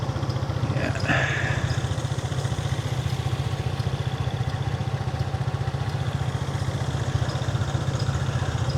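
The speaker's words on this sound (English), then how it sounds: "I love riding the scooter to Taipei." A SYM Fighter 150 scooter engine drones steadily and loudly while riding, a constant low pulsing hum with road and wind noise throughout and no break.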